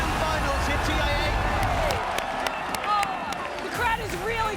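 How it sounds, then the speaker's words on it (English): A large arena crowd cheers and applauds during the Dota 2 International 2018 grand finals, a steady roar of clapping and whoops under continuous excited commentary. "Oh, the crowd is really coming alive."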